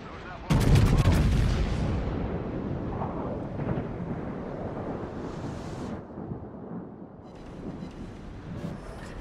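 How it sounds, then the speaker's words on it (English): Warship gun salvo in World of Warships, a heavy booming blast followed by long rumbling thunder-like echoes and scattered distant impacts, with faint voices underneath. "And that's a pretty neat salvo."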